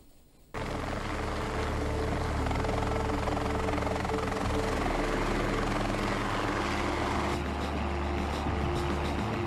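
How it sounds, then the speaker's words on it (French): A helicopter lifts off for an aerial photography flight over the Grand Est region, its rotor and engine roar starting abruptly and holding loud and steady close by, with no talk. "On décolle avec Thierry Gelé et François Bobet."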